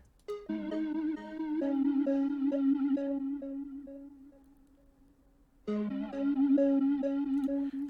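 A flute beat melody soaked in reverb, flanger and Portal effects flutters through repeated short notes over a sustained low tone, fades into a smeared tail, then starts again loudly. It plays on its own, with no talk.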